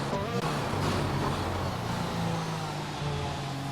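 A McLaren race car in a racing video game on the China circuit, its engine note droning steadily as it passes, a loud sustained motor tone with shifting pitch and no talk.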